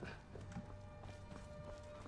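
Quiet, rhythmic horse hoofbeats in the video game Skyrim clip-clop steadily at a trot, faint and even, with a soft background hum.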